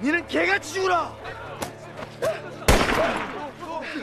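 Gunfire in a war film about student soldiers fighting trained troops: a sharp loud shot bursts in near the middle, with a fainter crack earlier, amid shouted voices arguing in Korean.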